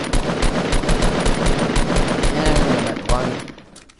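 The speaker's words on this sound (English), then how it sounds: "They shot at the bush." Rapid machine-gun fire in a Fortnite 50 vs 50 match, a loud, steady stream of close shots for about three seconds that then fades away.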